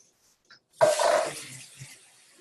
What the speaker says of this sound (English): we're gonna add a little bit of water in here because it's not quite enough